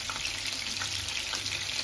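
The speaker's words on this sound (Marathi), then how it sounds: "तर हे बघा इथं आता मस्त पैकी तेलात स्वतःनी पनीर टाकलेले आहे." Paneer cubes frying in hot oil for chilli paneer, a steady, fairly quiet hiss and crackle with no talk.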